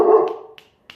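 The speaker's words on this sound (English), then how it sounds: "Sorry about my dog." A pet dog gives one loud close bark followed by two short, fainter yips spaced apart, recorded indoors.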